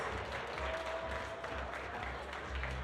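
An audience applauds at a youth bouldering finals competition in Graz, a dense, even clatter of many hands clapping steadily throughout at moderate distance.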